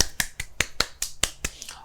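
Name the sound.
clap sound effect added to video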